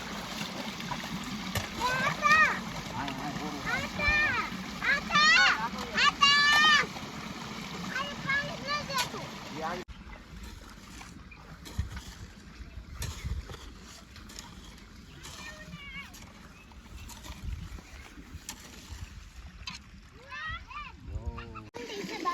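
Irrigation water on a Gujarat farm splashes and runs along a channel into a field, with a steady trickling flow under occasional voices and outdoor background noise.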